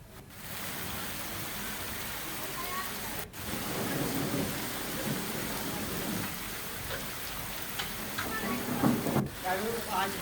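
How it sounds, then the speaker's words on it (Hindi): Heavy rain pours steadily in Uttarakhand, with a dull roll of thunder rumbling low beneath the constant hiss, close and unbroken for several seconds. "बिजली की तेज गड़गड़ाहट के साथ ही झमाझम बारिश होने लगी"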